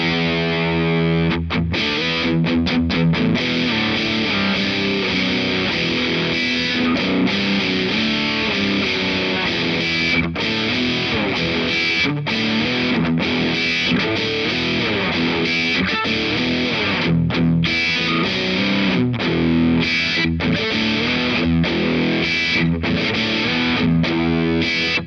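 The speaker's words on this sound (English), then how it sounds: "let's just see what kind of tones we're getting with a bit more distortion" Heavily distorted electric guitar played through a Boss DS-1 distortion pedal continuously for the whole stretch, thick and saturated, with chords and riffs loud and close, no voices.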